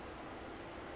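Aircraft engines run steadily just after start-up on a combat search and rescue aircraft, a dense, continuous roar with a faint high whine held at an even level from start to finish.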